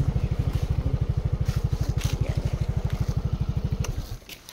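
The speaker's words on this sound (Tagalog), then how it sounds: "Ang ingay ng kanyang tambutso." A loud parked motorcycle's exhaust putters up close in a rapid, steady low throb, then fades out abruptly near the end.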